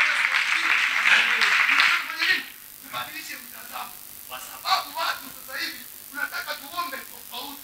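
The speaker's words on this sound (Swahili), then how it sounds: "Hiyo piga makofi kidogo." Church congregation at a prayer conference clapping hands, a loud burst of applause at first that fades into scattered, intermittent claps under a speaking voice.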